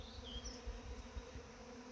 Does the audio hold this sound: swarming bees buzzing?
yes